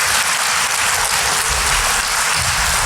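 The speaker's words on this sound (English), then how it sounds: "Give them both a round of applause for coming up." An audience at a candidates forum applauds steadily, a dense wash of clapping that stays loud and even throughout.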